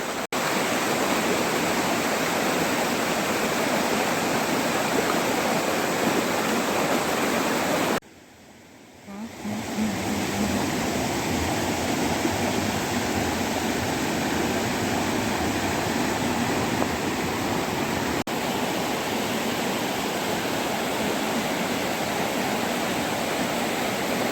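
Machha Kandana waterfall in Similipal, Mayurbhanj, pours as a loud, constant roar of rushing water, broken by a brief dip in sound about a third of the way in before the steady flow resumes.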